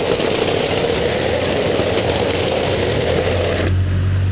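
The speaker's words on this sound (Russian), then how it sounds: "И ночью, и днем машины ездят." Car engine rumbling steadily as a vehicle drives through a residential apartment courtyard, a continuous close, loud drone with broadband road noise that settles into a lower idle hum near the end.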